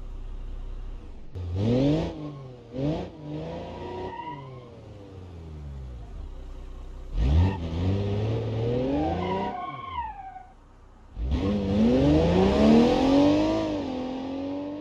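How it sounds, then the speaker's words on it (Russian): Passenger car driving hard, with bursts of engine revving and gear changes, rising pitch sweeps, brief pauses between runs and a final loud acceleration with tire noise. "Легковой автомобиль."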